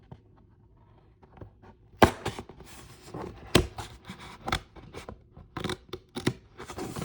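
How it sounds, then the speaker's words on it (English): Scissors cut a paper circle with a run of sharp, close snips and crunches, irregular at first and then quicker, with no talking. "With scissors, you can just poke it in the middle."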